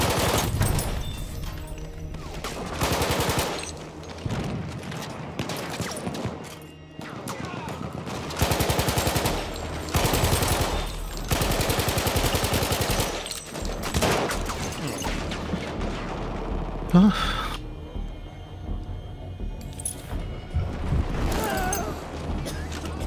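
Battlefield 1 combat is full of repeated machine-gun bursts and single gunshots, loud and close in long rattling stretches with brief lulls, while someone talks intermittently.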